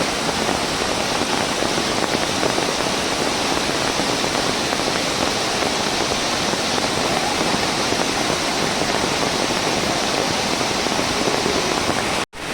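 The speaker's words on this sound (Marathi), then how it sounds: "वरतून बघा कसलं खवाळलेलं पाणी" Turbulent floodwater of a swollen Konkan river rushes in a loud, steady, unbroken roar during heavy monsoon rain, ending in an abrupt cut.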